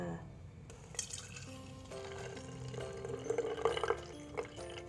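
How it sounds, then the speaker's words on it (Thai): Freshly blended celery juice strained through a filter, trickling and dripping in uneven spurts that grow busier toward the end, with a faint voice in the background. "ก่อนที่เราจะกินนะคะ เราก็ต้องกรองก่อนกรองเลยจ้า"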